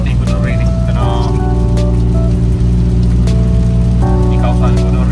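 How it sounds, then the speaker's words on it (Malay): Heavy rain and fast, high water at Gunung Ring in Jeli, Kelantan make a dense, loud, unbroken hiss near the listener, with someone speaking over it and low tonal hums beneath. "Air kuat tu. Air tinggi, air dalam, hujan lebat."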